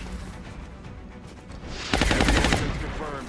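Rockets fire in XCOM with a sudden loud blast followed by a rapid rattling barrage and rumbling decay, over lower background game noise.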